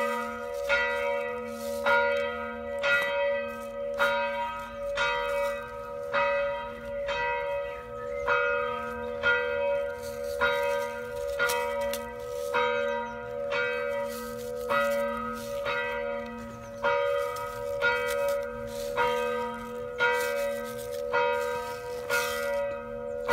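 A church bell tolls steadily near a small garden, with evenly spaced strikes and a lingering ring between them, loud and clear throughout with no talking.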